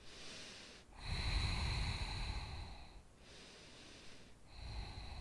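Slow, deep breathing during a yoga twist pose, close and fairly quiet, with two long airy breaths separated by brief pauses and a third beginning at the end.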